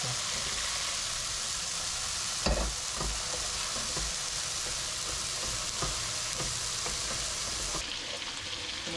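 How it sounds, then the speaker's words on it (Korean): Rice stir-fried in oil with plenty of seafood and mushrooms in a pan, a dense continuous sizzle with occasional scraping stirs and clinks, close and steady throughout, no talking. "풍성한 해물 맛을 살리기 위해서 해물을 듬뿍 넣고 그리고 쌀을 볶아가며 조리했습니다."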